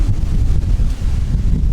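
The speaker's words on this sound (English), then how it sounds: "I'm sure you can hear that wind howling." Strong wind roars continuously, buffeting the microphone with deep, rumbling gusts; no voices.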